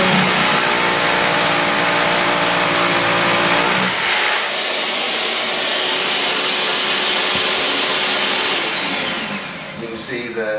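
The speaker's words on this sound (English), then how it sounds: "the vacuum kicks on and starts sucking the dust out of this shroud right here" Battery drill boring a hole while a dust vacuum connected to a drilling shroud runs, a loud steady motor whine that shifts pitch partway through and tapers off near the end.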